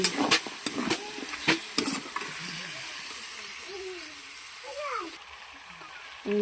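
Potatoes with chili powder stir-fried in a pan: a soft, steady sizzle with scraping stirring strokes and a few sharp clinks near the start, fading to a quieter hiss.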